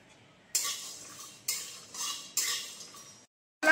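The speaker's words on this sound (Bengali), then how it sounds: "এটা আমি শুকনো খোলায় ভেজে নেব হালকা করে।" Whole spices with cashews and almonds, including black pepper, cinnamon, cardamom, cloves and caraway, dry-roasted in a pan, heard as four bursts of scraping and rattling as a spoon stirs them, with quiet gaps between.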